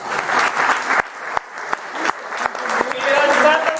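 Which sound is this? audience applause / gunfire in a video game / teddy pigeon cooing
audience applause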